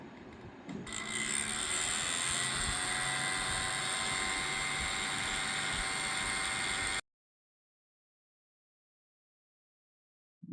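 A blower motor inflating a Halloween inflatable ghost decoration, a steady whirring hum that spins up and then holds at an even drone for several seconds before cutting off abruptly into silence.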